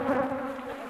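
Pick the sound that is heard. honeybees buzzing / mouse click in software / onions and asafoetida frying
honeybees buzzing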